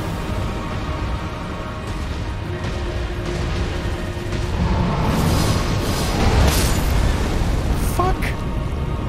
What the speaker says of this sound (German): Jetzt kommt er mit zwei Feuerbällen.